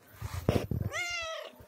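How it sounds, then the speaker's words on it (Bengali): A pet cat gives a single clear, close meow lasting under a second, preceded by a few soft household bumps and a faint voice. "এই যে আমার বিড়াল"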